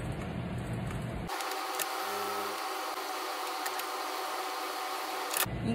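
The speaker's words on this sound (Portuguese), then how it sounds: "E agora é só costurar. Vou fazer um ponto simples de máquina reta" A sewing machine runs a plain straight stitch around an appliqué on a fabric bag, a steady, quiet mechanical whir that starts abruptly after a second and stops just before the end.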